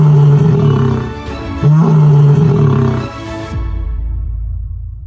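A lion in the Okavango gives deep, loud, close roars, two long rumbling calls followed by lower grunting breaths that trail off.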